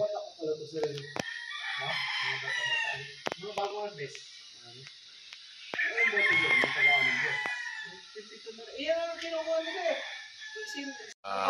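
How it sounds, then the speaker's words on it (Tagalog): Gamefowl chickens and roosters at a Mt. Banahaw gamefarm in Dolores, Quezon cluck and crow repeatedly, some close and some farther off, with people talking among the birds. "Ayan, mga gwapong manok."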